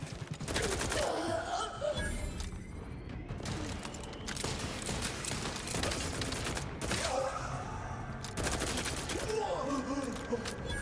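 Rapid, continuous gunfire from the player's weapon in The Outer Worlds 2 video game, dense bursts nearly filling the whole stretch, with game voices mixed in underneath.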